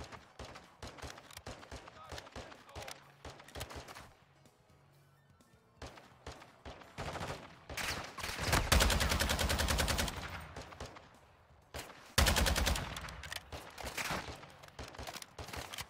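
Gunfire in an online shooter video game: scattered single shots, then heavy rapid automatic bursts in two loud stretches, with players' voices talking in between.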